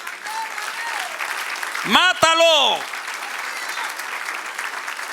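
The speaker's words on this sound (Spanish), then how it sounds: "Dale un aplauso al que reina." A church congregation applauds during a sermon, a steady wash of clapping running throughout, with a voice briefly shouting over it midway.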